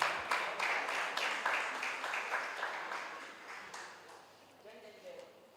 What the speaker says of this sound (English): Can you clap him? Clap him.